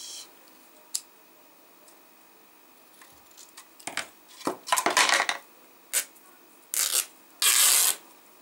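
Scissors cutting into a recycled cardboard box give scattered rustles and short scraping crunches, close and intermittent, growing louder toward the end.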